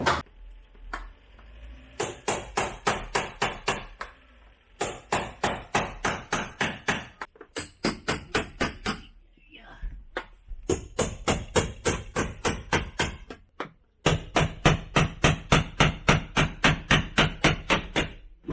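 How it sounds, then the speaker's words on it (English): Hammer striking the metal roof of a high-top van during a conversion, loud, close, rapid ringing blows in fast rhythmic bursts separated by short pauses, with no talking. "was hammering here and you can see the metal piece in there."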